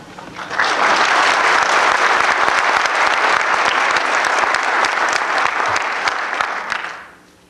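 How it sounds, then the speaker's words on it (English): Applause from a graduation audience, loud and steady for about six seconds, then fading out near the end; a dense wash of many hands with no voices. "Would they please stand to have a round of applause?"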